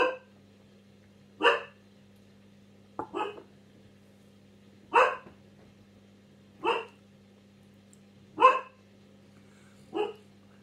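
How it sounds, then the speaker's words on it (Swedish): Several dogs bark in separate short bursts, roughly every one and a half to two seconds, fairly close, over a steady low electrical hum. "Ja, jävla tröga hundar."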